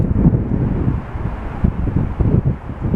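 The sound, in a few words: wind blowing into microphone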